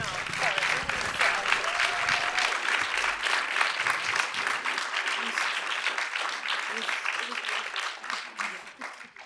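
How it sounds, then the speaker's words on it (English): An audience after a film screening Q&A for Riotsville, USA bursts into sustained applause, dense and lively clapping that tapers toward the end, with a voice briefly heard underneath at the start. "Well, I think we can clap now."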